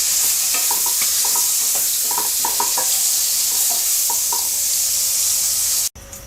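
Fried prawns sizzle steadily in hot oil in a pan, a constant loud hiss with scattered crackles and light stirring or scraping taps, ending with a brief cut and quieter sizzle.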